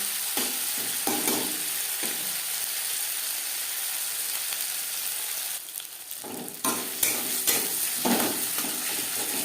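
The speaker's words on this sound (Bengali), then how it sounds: "তিন চার মিনিট লো টু মিডিয়াম ফ্লেমে মশলা নাড়াচাড়া করে নেব।" Spices with turmeric and tomato for a vegetarian bhindi curry stirred in a pan over low to medium flame, a soft continuous sizzle broken by repeated scraping spatula strokes, close and fairly quiet.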